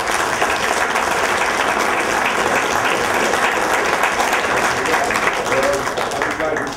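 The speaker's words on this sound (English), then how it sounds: "By a round of applause." A large audience gives a loud, continuous round of applause at an event, thick clapping with scattered voices and cheers underneath, tapering slightly at the close.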